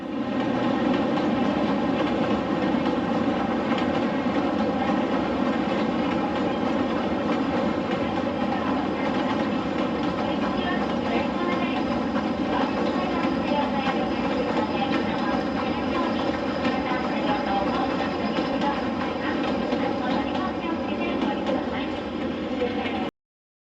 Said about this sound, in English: the chance to view the Kurobe Gorge train as it made its way to the station